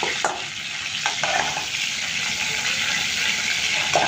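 Chicken pieces frying in oil for a home-style chicken roast, a steady close hiss and crackle of sizzling fat with a few sharper utensil knocks early on.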